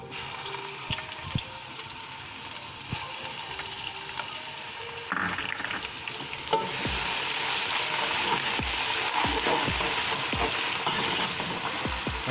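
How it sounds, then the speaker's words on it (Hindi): Ginger garlic paste sizzles and is stirred in a hot pan while cooking aloo gobi, a steady frying hiss with scraping strokes that swells louder and denser partway through, no voices. "अदरक लहसुन का पेस्ट इस तरह शामिल करना है"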